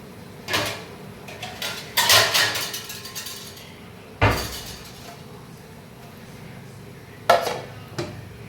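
A dish of freshly kneaded flour dough being covered in a home kitchen, heard as a few sharp clinks and knocks of crockery and a lid, spaced irregularly with quiet pauses between them and no talking.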